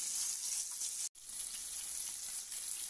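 Pieces of carp sizzle in hot oil in a frying pan, a close continuous hiss and crackle broken by one abrupt momentary gap, no voices present.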